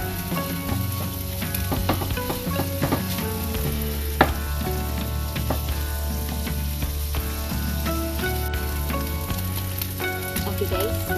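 Ground beef frying in a pan with continuous sizzle and crackle. Clicking, scraping spatula strokes run throughout and one sharp knock stands out, with no voice over the cooking.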